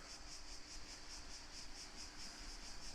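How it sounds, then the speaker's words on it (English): Cicadas chirp at sunrise on a balmy coastal morning, a faint, high, evenly pulsing buzz repeating in a steady rhythm over a quiet background hiss. "you can probably hear the cicadas"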